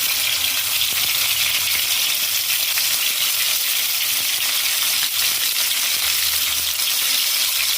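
Garlic and tomato dropped into hot oil in a pan, giving a loud, even, close-up sizzle that holds steady throughout with no talking.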